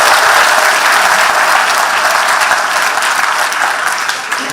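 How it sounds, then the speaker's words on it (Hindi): An audience at a student scholarship distribution event applauds, dense continuous clapping that stays loud and close throughout, tapering slightly at the very end. "तो जरा ताली वाली बजाओ, आगे बढ़ो।"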